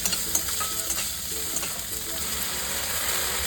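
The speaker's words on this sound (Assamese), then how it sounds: "তাৰপিছত কেৰাহীত মই এচামুচৰো অকণমান কম তেল দিলোঁ, একেবাৰে কম তেল। পিঁয়াজ দিছোঁ আৰু কেইটামান মটৰো দিলোঁ।" Onions and a few peas frying in a very small amount of oil in a kadai, a steady close sizzle with light stirring and scraping clicks throughout, no voices.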